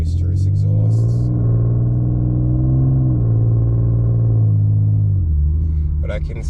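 An Infiniti Q50S exhaust fitted with a Vibrant super quiet resonator, heard from inside the cabin as a loud, deep droning rumble that swells slightly under light throttle before dropping back, with brief bits of other noise at the edges.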